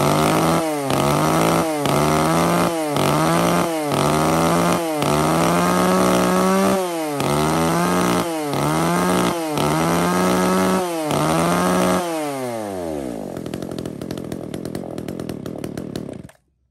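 A Makita chainsaw engine runs close and loud, revving in a series of rhythmic bursts with brief dips between them, then winding down to a lower idle before cutting off.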